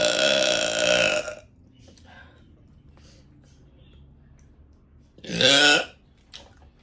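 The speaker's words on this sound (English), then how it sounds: "I just really love burping." Two loud, close burps during a mukbang eating session, the first long and drawn out at the start, the second shorter after a quiet gap with faint small noises between.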